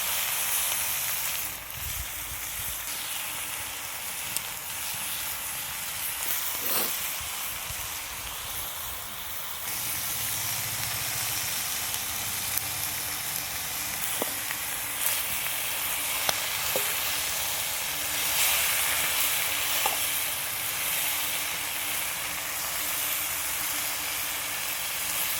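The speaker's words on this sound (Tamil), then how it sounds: "இதை வந்து நல்லா வதக்கிடலாம்." Village chicken sautéing and being stirred in a pan, with a steady sizzling hiss throughout and occasional scrapes and clicks of the spoon.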